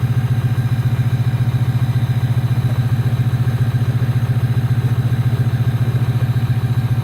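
A Ford Super Duty truck engine idles after a cold start in northern Ontario, a loud, close, steady rhythmic diesel-like clatter and low throb with no speech.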